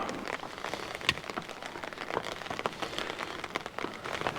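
Rain falling outdoors on a coastal walk near Clovelly in North Devon, a dense patter of close drops striking surfaces with scattered sharper splashes throughout.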